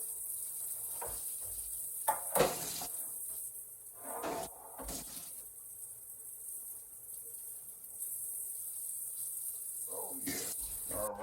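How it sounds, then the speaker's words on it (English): Ribeye steaks are rinsed under a running kitchen tap, a soft steady stream of water with a few louder splashes as the meat is moved about, heard fairly quietly and without talk. "We're gonna rinse these off real quick."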